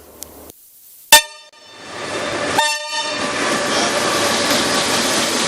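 A passenger train on the Abuja to Kaduna railway sounds a loud horn nearby, and a steady rumble of rolling wheels and carriages follows and builds, with no talk.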